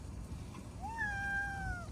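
A cat meows once, a clear rising-then-falling cry that holds for about a second, over steady low background rumble inside a van during dinner cooking.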